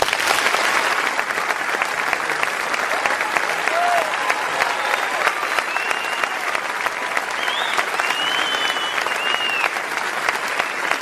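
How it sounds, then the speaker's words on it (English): Audience applause in an auditorium welcoming Donald J. Trump at an event: dense, sustained clapping from a large crowd, loud and continuous for about eleven seconds, with faint whistles and cheers riding on top. "please put your hands together in joining me in welcoming"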